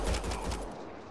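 Gunfire in the video game Mass Effect: Andromeda: a short, loud burst of several rapid booming shots that cuts off and fades within about a second, with no voices.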